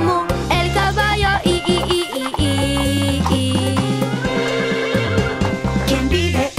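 A horse neighs amid a loud, bouncy children's farm-animal song, the whinny blended into steady music with sung vocals throughout.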